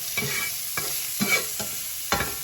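Seasoned steak for tacos stirred in a hot pan, with a steady sizzle underneath and about five scraping strokes of the utensil, close and clear. Nobody speaks.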